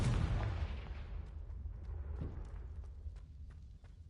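A Confringo blasting spell detonates in a Harry Potter video game, a loud booming explosion at the start that rumbles and decays over several seconds with faint crackles trailing off.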